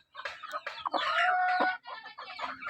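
Hens clucking close by in a busy run of calls, with one longer drawn-out squawk in the middle and no talking.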